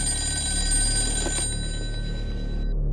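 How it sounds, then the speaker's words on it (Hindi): A telephone rings with a bright, steady bell tone for a few seconds and cuts off abruptly near the end, set in an Indian courtroom crime drama. "मैं एक फोन घुमा दूं ना?"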